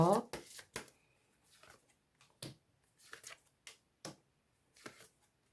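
Tarot cards shuffled by hand in a quiet room: soft papery riffles and slaps arriving in uneven bursts, with a short voice right at the start.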